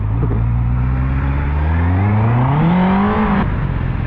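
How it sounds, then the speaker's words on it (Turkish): A motor engine revs hard and close, its pitch climbing steadily for a few seconds before cutting off abruptly; no voices. "Ama benim motorun sesi bayağı çıkıyor seninkinin yanında."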